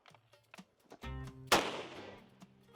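Gunshots fired at a bottle in a rocky quarry: a few sharp nearby cracks, with one loud blast that rings out and decays, amid scattered handling noise.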